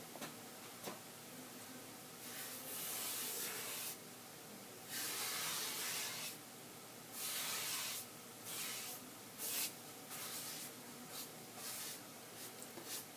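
A sprayer hisses in repeated bursts of a second or two each, separated by short pauses, as a final coat of dye goes onto a handmade guitulcimer; the sound is close and fairly loud, with no talking.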